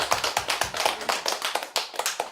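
A Korean congregation gives a rhythmic round of applause at a church thanksgiving service, the claps landing in regular, fairly loud beats with no talking.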